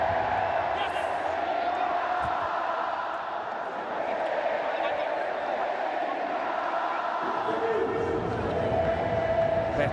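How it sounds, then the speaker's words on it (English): A faithful cricket crowd sings in a stadium after India beat New Zealand for the Champions Trophy, a steady distant chant spreading under a commentator's voice throughout. "you may well be able to hear the singing of this very, very faithful crowd"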